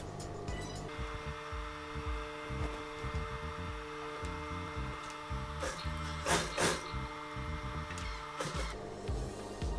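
A sewing machine stitches the shoulder seam of a half petticoat, running in a steady whirring buzz for several seconds, pausing briefly, then starting again, close and alone with no voices.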